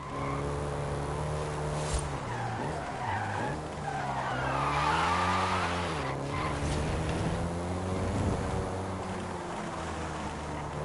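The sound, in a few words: Volkswagen Golf GTI car driving in Forza video game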